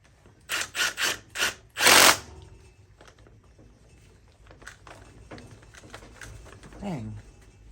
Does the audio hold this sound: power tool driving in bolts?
yes